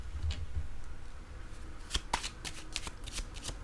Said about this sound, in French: Je vais piger une carte sur lui.